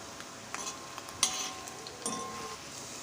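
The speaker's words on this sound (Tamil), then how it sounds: "ஒவ்வொரு பீஸாக அதில் போட்டு பொரித்து எடுத்துக்கலாம்." Cauliflower pieces deep frying in oil on a low flame give a soft, steady sizzle, with a few light clinks and scrapes of a utensil against the pan; close but quiet, no talking.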